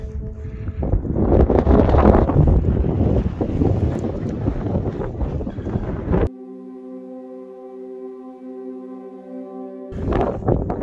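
Strong gusting wind on a Scottish mountain summit buffets the microphone with loud broadband rumble for about six seconds, cuts out abruptly, then returns near the end after a steady tonal hum.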